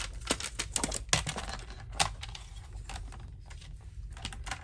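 A paper trimmer working on white card stock, a run of quick close clicks and taps with small sharp snaps, some of them louder, and no voices over it.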